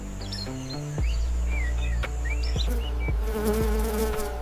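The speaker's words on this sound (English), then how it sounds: "Annoying insects are a minor nuisance, ignored in favor of rest." Flying insects buzz through an Australian forest, a close, steady drone with whining passes overhead, mixed with faint bird chirps in the background.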